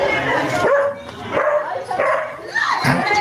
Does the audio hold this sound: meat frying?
no